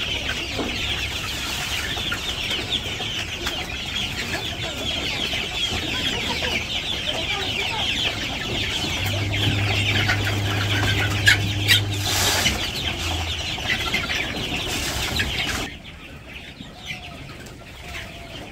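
Village chickens clucking and calling close by as they are fed, a busy continuous flock chatter with occasional wing flaps, louder in the middle and suddenly quieter near the end.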